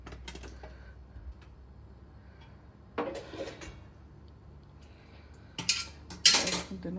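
Veg biryani is served from a cooking pot with a metal spoon, giving a few sharp clinks and scrapes, some near and clattery, separated by quiet stretches.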